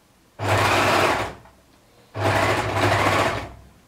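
A sewing machine overlocks a kimono seam in two loud, close bursts of rapid whirring, each about a second long and separated by a short pause, with no talk.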